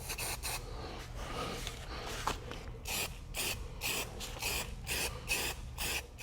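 Aerosol can of SEM trim black sprays onto a Foxbody Mustang quarter window moulding in repeated short hissing passes, a steady rhythm of close bursts with brief pauses between them.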